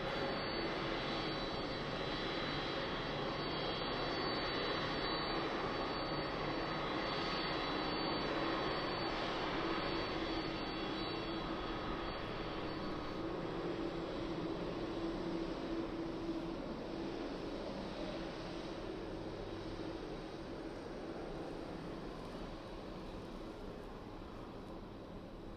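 An airliner taxis across the runway at Birmingham Airport, its engines giving a steady distant roar and whine that holds for the whole stretch and fades slightly toward the end, with no talking.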